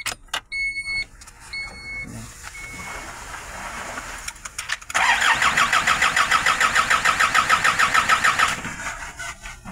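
Isuzu 4HL1 diesel engine with a suspect suction control valve cranking without catching: a loud, steady rhythmic churn of the starter for several seconds after some earlier clicks and whirs, with no engine firing.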